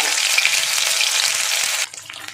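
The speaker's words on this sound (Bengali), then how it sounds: "এবার আমি আদা আর কাঁচা লঙ্কা বাটাটা দিয়ে দেব, দিয়ে একটু কষিয়ে নেব।" A paste of ginger and green chili hits hot oil in a pan with a loud, close, continuous sizzle that cuts off abruptly near the end, with no talking.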